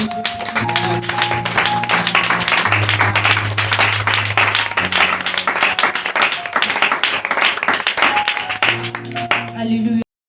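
A congregation at a youth church gathering claps and cheers in praise, with dense, sustained applause running the whole stretch over sustained keyboard chords, loud and close.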